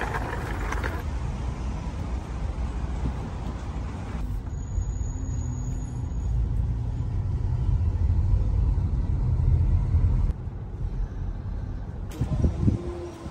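Rush hour traffic in a Chinese city gives a steady low rumble of engines and passing vehicles, with brief air-brake hisses and shifts in intensity as cars move past, close and continuous.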